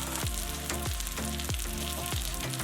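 Cheesy chicken cakes fry in oil in a skillet with a steady, close sizzle, and soft periodic thumps recur through the crackling.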